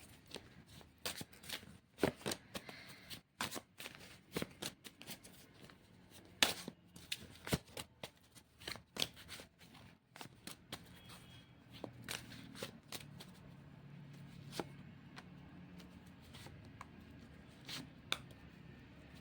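A tarot card deck is shuffled close by, with quick papery riffles and snaps in irregular bursts over a quiet room.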